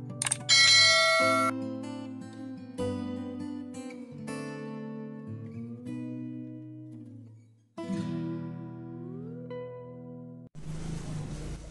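A series of bright bell dings and chimes rings out clearly, followed by a short burst of noisy rustle at the end.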